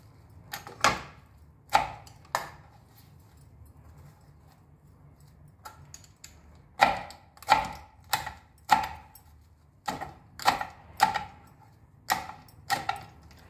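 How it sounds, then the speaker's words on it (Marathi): A knife chopping coriander on a cutting board: sharp, close taps in short irregular bursts, separated by pauses, with no talk over them. "आपण आता कोथिंबीर चिरून घेऊया।"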